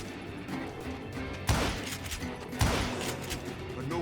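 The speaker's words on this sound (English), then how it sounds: "Robert Ollinger appeared with his terrible double-barrel shotgun." Two sharp, loud double-barrel shotgun blasts about a second apart in the Western shooter Call of Juarez: Gunslinger, each cracking out over busy in-game background noise.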